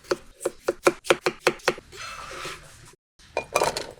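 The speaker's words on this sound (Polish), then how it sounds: "Pokrój ziemniaki na duże kawałki." A knife chops through potatoes on a cutting board in about nine quick, even strokes, followed by scraping and a few more cuts, close and loud.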